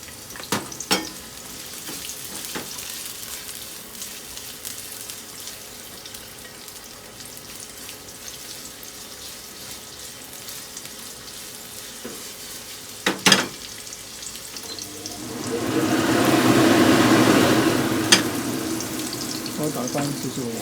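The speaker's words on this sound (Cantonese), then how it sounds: "跟住咧就薑葱先啦，擺薑葱先啦。" Ginger and scallions go into a hot wok and stir-fry with a swelling sizzle toward the end, preceded by a few sharp clanks and low kitchen background noise.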